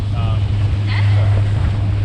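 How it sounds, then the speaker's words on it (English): A new boat's engine runs steadily on open water, a loud constant low drone buffeted by wind noise across the microphone, with a voice briefly audible over it. "Well, the engine's running good, man."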